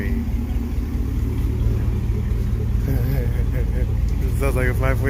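A 1999–2006 Chevy Suburban with a 5.3 V8 and muffler delete idles with a deep, throbbing rumble, pulsing low and loud while people talk over it.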